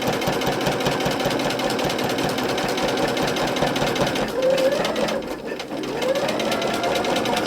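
A sewing machine doing free machine stitching runs in a fast, steady mechanical chatter, close and constant with a brief dip in speed partway through.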